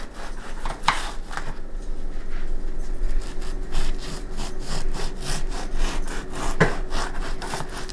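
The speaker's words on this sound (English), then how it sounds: "If you turn your bread over and slice it, it's easier to slice." A knife saws back and forth through a loaf of keto egg white buttermilk bread, laid upside down, in a rapid rasping rhythm of close, steady strokes with no talk.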